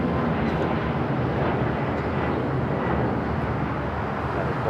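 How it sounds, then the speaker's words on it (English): Turkish Airlines Airbus A350-900 airliner pushing back from the north side gates at LAX, a steady, loud broadband jet engine roar that holds constant throughout without change. "That's like the Turkish A350-900 now pushing back from the north side gates."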